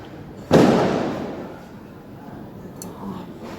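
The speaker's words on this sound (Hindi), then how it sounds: "सॉरी पटाखे बहुत ज़्यादा चल रहे हैं।" A single loud Diwali firecracker bursts outside with a sharp bang and a long fading rumble. A fainter pop comes a few seconds later.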